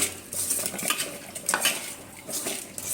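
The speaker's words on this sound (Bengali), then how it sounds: "মাছগুলো ভাজার জন্য মেখে নিব।" Shrimp being mixed with chili powder in a metal bowl before frying, with soft wet squelching and light scraping and clinking of utensil against the bowl, close and continuous.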